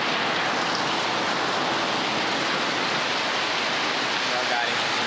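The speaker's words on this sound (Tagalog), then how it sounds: "Malakas na naman ng ulan." Heavy monsoon rain pours down in a dense, continuous roar of hiss, steady and loud without a break.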